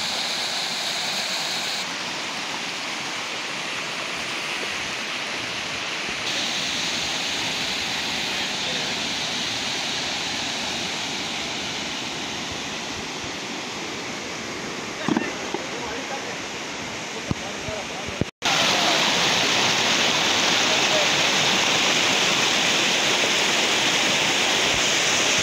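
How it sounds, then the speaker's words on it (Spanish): A steady, full roar of falling water from the El Barro waterfall in Yuscarán, Honduras, fills the scene throughout, broad and constant, growing slightly louder near the end. "Allá tenemos la cascada al fondo."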